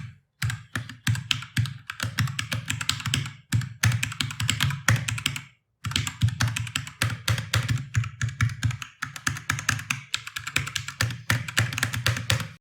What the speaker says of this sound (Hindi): ये जो आपने साउंड सुना अभी ये सिंपली ये इस कीबोर्ड का ही है